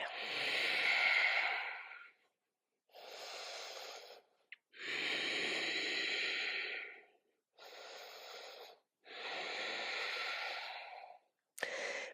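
Slow, deep yoga breaths come in five or six long, close, airy inhales and exhales separated by quiet pauses, each breath loud and hissing with no talking.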